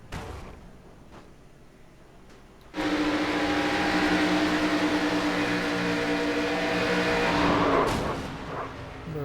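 A Chevrolet Impala race car at Daytona International Speedway roars in after a quiet start and holds a loud, steady engine drone, which fades near the end. No crash impacts stand out.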